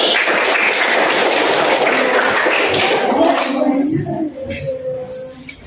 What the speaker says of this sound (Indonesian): Tepuk tangan untuk Ananda Meli.